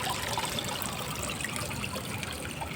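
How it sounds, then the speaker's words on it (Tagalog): Water trickles and splashes steadily down a small mini waterfall built into a landscaped garden, a continuous close, even babble of falling water with no voices. "Ayan ang ating ginawang waterfalls, mini waterfalls."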